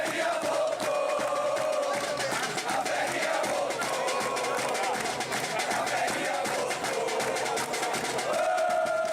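Football fans in a stadium celebrate Ferroviária's promotion to the top tier of São Paulo football, a dense, steady roar of cheering and chanting that holds loud throughout.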